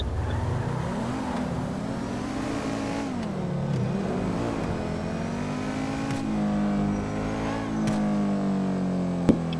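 A Pegassi hypercar engine in the GTA video game drones and revs continuously up close, its pitch climbing and dipping as it accelerates, with a sharp click near the end.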